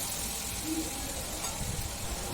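Green chili, ginger and garlic paste sizzling in hot oil in a pan for egg curry, a steady close hiss that holds even throughout, with no voices.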